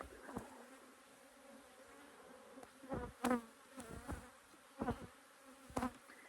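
Honeybees buzzing close by during an open hive inspection, with several individual bees droning past in short, rising and falling passes over a faint steady hum.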